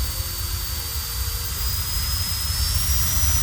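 A loud, steady high-pitched screech over a constant rushing roar from a JisuLife Ultra 2 handheld fan running at full power, continuous and close.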